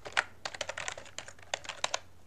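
Rapid typing on a computer keyboard while filling in name and phone fields of a PHP web form: a steady run of crisp, close key clicks in irregular bursts, with no speech over them.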